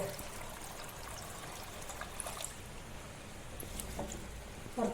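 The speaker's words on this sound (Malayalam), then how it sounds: "ഇതിനകത്തേക്ക് വെള്ളം വെള്ളം ഒഴിക്കുന്നുണ്ട്" Water is poured into a pressure cooker holding washed tapioca, making a soft, close trickling stream that runs steadily and quietly, with a few faint clinks near the end.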